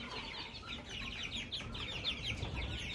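Young Australorp Blue chicks and cockerels in a coop give a steady stream of high, busy clucks and peeps, close and continuous with no talk.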